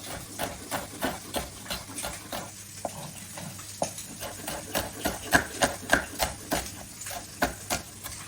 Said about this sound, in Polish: W międzyczasie, jak żeberka się smażą, ja pokroję cebulę.